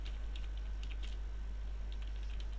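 A short run of light keystrokes on a computer keyboard while an SQL query is entered, faint clicks over a steady low electrical hum, with no talking.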